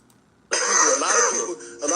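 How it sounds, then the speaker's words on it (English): A short, rough throat-clearing cough sounds up close, a single raspy burst of a second or so. "He trying to give him the little dirt cough."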